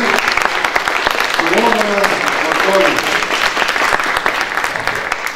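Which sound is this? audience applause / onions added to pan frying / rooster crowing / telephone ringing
audience applause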